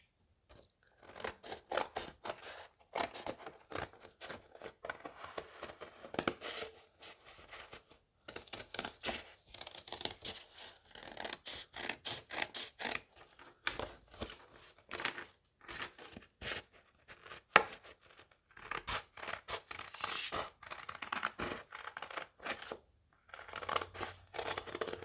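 Scissors snip through a stack of three paper sheets while cutting paper flower heads, a long run of faint, close crisp snips and crunches with brief pauses between cuts.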